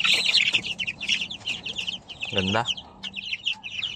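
Hens on a farm cluck and chirp close by in busy, overlapping bursts, with one louder drawn-out call midway, while someone says a word over them.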